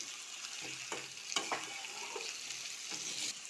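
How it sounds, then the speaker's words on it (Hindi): Cashews are stirred into a frying malai kofta masala for chicken malai kofta, a quiet, steady sizzle broken by several spoon scrapes and a couple of clinks against the pan, no voices. "अब इसमें काजू देकर चला देंगे 2 मिनट के लिए"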